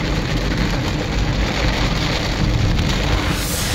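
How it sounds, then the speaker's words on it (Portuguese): Heavy rain pours down steadily in a dense, loud, continuous wash, with no voices over it, during a storm at a fishing spot in Sítios Novos. "Que chuva pesada é essa, senhor?"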